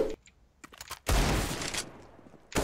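Gunfire in a Counter-Strike match played on FACEIT: a burst of shots after some quiet keyboard clicks, then another sharp volley at the end, with brief voices.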